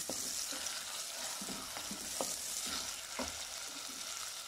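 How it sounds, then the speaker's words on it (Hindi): Daal maash frying in oil in a home kitchen pan: a steady, close hiss of sizzling with soft scraping clicks as the lentils are stirred, and no talk. "तो ऑयल में बना रही हैं।"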